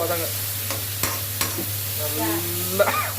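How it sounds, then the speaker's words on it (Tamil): Salted potatoes are stirred and sautéed in a pan, giving a steady low sizzle with occasional sharp scrapes and clicks of the spoon against the pan, near and continuous with no talking. "இந்த மாதிரி நல்லா வதக்கிட்டு அப்புறம் உருளைக்கிழங்கு எடுக்கணும்."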